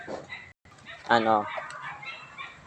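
Chickens raised for sale cluck and give a drawn-out squawk nearby, with someone talking over them.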